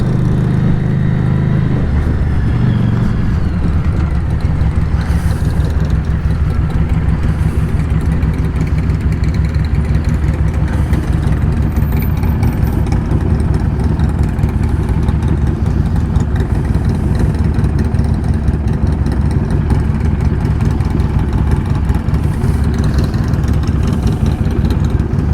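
A 2017 Harley-Davidson Street 500 motorcycle engine runs steadily close by, a continuous low rumble that holds its pitch for the whole stretch with no voices.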